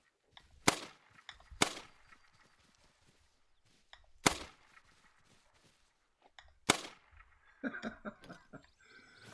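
Four sharp, loud rifle gunshots from the hunting game theHunter: Call of the Wild, each spaced a second or more apart in an otherwise quiet scene, followed by a brief patter of softer noises.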